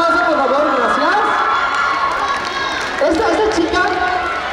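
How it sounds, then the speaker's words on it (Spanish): Audience at an anime fest cheering and clapping, a dense, loud crowd roar with shouts and whoops rising over steady applause throughout, with voices mixed in. "un fuerte aplauso por favor"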